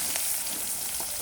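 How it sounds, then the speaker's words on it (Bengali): Onions frying in hot oil in a home kitchen while a Bengali chicken curry with chana dal is prepared, giving a steady close sizzle and crackle throughout with no talk. "এই যে এই তেলে দিয়ে দেবো এখন পেঁয়াজ"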